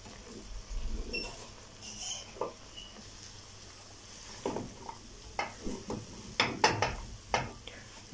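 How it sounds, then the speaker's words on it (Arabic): A spoon stirs carob and sugar in a pot as they caramelize, making soft scraping swishes and light clinks against the pot in irregular strokes, close but quiet, with some brief soft sizzling and no talking. "نقلب بقى كده لغايه ما ياخد معانا اللون البني ده كده"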